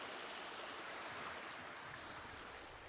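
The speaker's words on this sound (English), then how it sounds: "We're going to join Jacob about to cross a river" River water rushes and flows in a steady, broadband wash that stays even and fairly loud throughout, with no voices.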